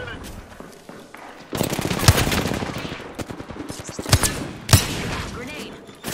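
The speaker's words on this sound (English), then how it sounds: "Oh, taking shots. Taking fire." Gunfire in the shooter game Apex Legends: rapid bursts of automatic weapon fire with a few heavier single shots, loud and close, and a voice speaking over it.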